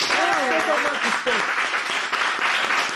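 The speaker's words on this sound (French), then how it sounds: "On applaudit non pour le buzz" Studio audience applause on a French weekly buzz show, loud and continuous for the full length, with a voice briefly speaking over the opening second.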